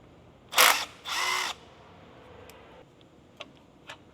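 Three 12 mm bolts are unbolted on a 1994 Acura NSX during clutch work: two loud bursts of a power tool or drill, one short and one longer, followed by quiet faint metallic clicks and ticks.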